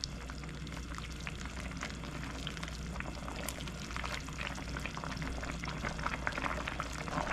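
A hearty stew bubbles steadily in a pot, a soft continuous boil with small pops and gurgles and no voices.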